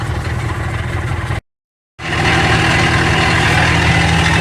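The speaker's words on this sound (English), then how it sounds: "My engine's running a little bit rough." A boat's outboard engine running a little rough on the Chester River during trotline crabbing: a loud, close, steady drone that drops out for half a second and then resumes at full strength.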